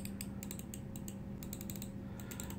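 Rapid crisp clicks from the buttons of a TierGrade six-button wireless mouse, coming in quick irregular bursts, close and fairly quiet over a steady low background hum.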